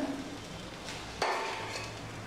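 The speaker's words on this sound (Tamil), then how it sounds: "எல்லாத்தையும் நல்லா கிண்டி விட்டுருங்க" Chilli idli fry being stirred in a pan, soft scraping of a utensil with a sharp clack partway through, close and fairly quiet with no voices.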